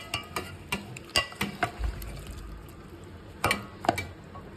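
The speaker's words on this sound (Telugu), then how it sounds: "ఇప్పుడు మిక్స్ చేద్దాం." A spoon stirs a pepper-seasoned curry in a pan, giving a dozen or so close, scattered clinks and scrapes in an irregular rhythm, with a soft low thud midway.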